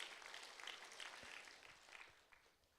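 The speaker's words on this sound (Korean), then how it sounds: "우리 하나님께 감사의 박수를 드립시다" A church congregation claps together during a Sunday service at a Korean Holiness church, a steady wash of applause that stays faint and distant throughout with no voices over it.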